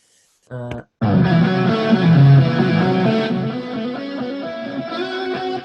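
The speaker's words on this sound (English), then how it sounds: "You can make it sound horrendous if I go to like 6." Electric guitar run through an octaver effect set to +6, giving a detuned, sour, out-of-tune pitch-shifted tone; a short plucked note, then a sustained strummed passage ringing loud and steady.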